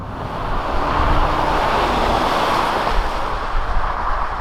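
Genesis G80 2.2-liter diesel car accelerating in sport mode, a steady broadband rush of engine, road and wind noise that holds at a constant loud level throughout, with no talk.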